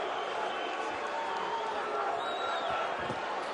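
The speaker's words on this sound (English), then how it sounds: "Crowd starting to boo." A large boxing arena crowd at Oscar De La Hoya vs John John Molina, late in round 10, roars in a steady, dense wash of noise, with a low rumble of booing rising throughout, no single voice standing out.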